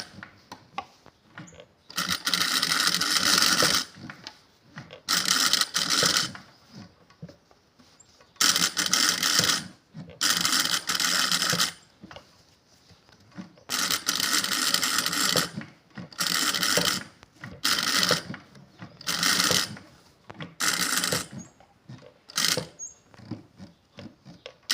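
A sewing machine stitches a trendy neck design on fabric, running in repeated bursts of a few seconds each with short pauses between runs, loud and close with no talking.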